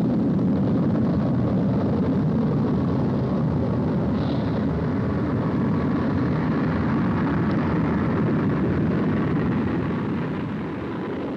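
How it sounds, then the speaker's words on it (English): SR-71 Blackbird rolling down the runway: a loud, continuous, rumbling jet roar holding steady for several seconds before easing slightly at the end, with no talking. "As the aircraft moves down the runway"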